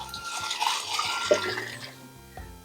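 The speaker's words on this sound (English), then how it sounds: "that is pouring the oil, the fried onion oil, into the ndole" Oil from fried onions poured into a pot of ndole, a Cameroonian bitterleaf soup: a steady close liquid splash and trickle with some clinks of cookware, thinning out toward the end.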